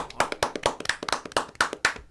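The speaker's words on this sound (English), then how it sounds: "Can I get a round of applause, please?" A short round of applause, a few pairs of hands clapping in a quick uneven rhythm, close and fairly loud, lasting about two seconds.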